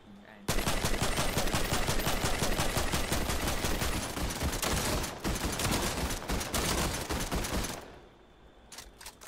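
Sustained automatic gunfire in Fortnite rattles nonstop for about seven seconds, loud and dense, then cuts off into a few scattered shots.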